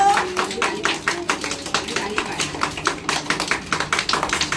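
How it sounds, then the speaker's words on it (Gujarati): Children sitting in a circle clap their hands in a quick, steady burst of many small claps, close and lively, while a voice talks over them. "ચલો તાળી પાડો"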